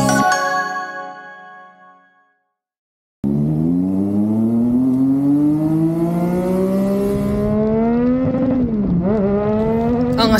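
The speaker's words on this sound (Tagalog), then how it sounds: "Ang astig ng sports car na yun, color red pa. Porsche ba yun?" A red Porsche sports car drives past on the road toward Tagaytay in the Philippines, its engine note climbing steadily as it accelerates nearby, after a brief chiming tone fades into a moment of silence.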